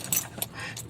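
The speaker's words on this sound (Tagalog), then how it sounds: "Lapag ko yung susi sa floor." A set of keys set down on a floor, giving a few short metallic jingles and clinks close by in under a second.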